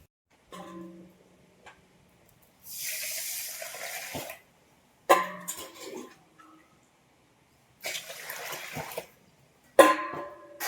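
Rice is washed in water, with about four separate bursts of splashing and sloshing close by, separated by quiet pauses.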